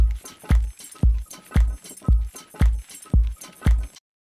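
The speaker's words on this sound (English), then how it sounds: "So what we have is this like swinging kind of house influenced beat" A steady, swinging house-influenced drum beat at a moderate tempo, with punchy kicks and clicky percussion repeating in an even groove, no voices.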